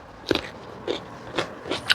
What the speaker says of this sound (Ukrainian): Як вони хрумкотять, я не можу вам передати словами.